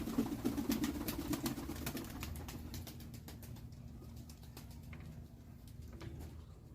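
A Serbian high flyer pigeon coos in low, soft repeated rumbles, loudest at the start and fading, with scattered light clicks and rustling around it.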